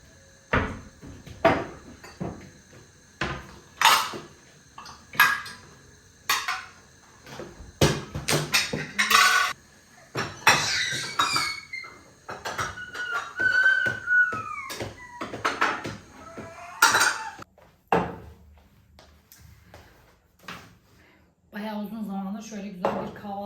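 Kitchen clatter of dishes being washed and cupboards being handled, with sharp clinks and knocks scattered throughout and a voice speaking at times.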